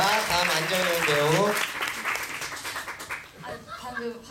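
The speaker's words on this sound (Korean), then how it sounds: "박수 부탁드립니다" Audience applause at a theater company's tenth-anniversary closing ceremony for an award winner, clapping rising under a speaking voice over a music bed, then thinning out as talk continues.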